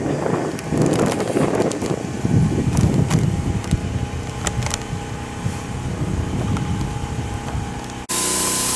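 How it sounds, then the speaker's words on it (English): Steady broadband hiss of stain being sprayed onto the wooden underside of a cabin's ledger board, fairly close, with low rumbling handling noise beneath and a brief cut near the end. "just spraying the underside of the ledger board"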